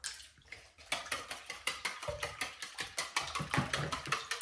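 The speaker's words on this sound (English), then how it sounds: "I'm just going to go ahead and whisk the eggs with the milk." A whisk beats four eggs with milk in a bowl, a steady rapid series of light clinking strokes against the bowl, close and evenly rhythmic.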